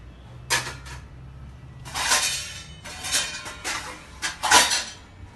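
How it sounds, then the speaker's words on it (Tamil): Metallic clinks and scrapes of a plate being set and shifted over a pot of cooking mappillai samba rice, used as a lid, several sharp clatters against a low steady simmer. "மூடி இப்படி இல்லைன்னா என்ன பண்ணுங்க, பிளேட் போட்டு மூடிடுங்க"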